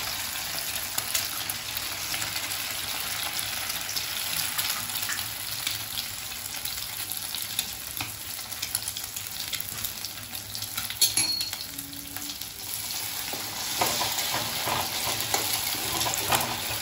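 Egg noodles frying in heated oil for an Andhra-style spicy dish, a steady dense sizzle running without pause, close and fairly loud, with faint scrapes of stirring and pan contact and no talking.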